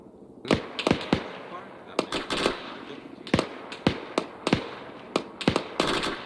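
Gunfire in Arma 3 crackles as sharp, separated reports, single shots and quick pairs spaced irregularly over several seconds, some nearer and louder than others.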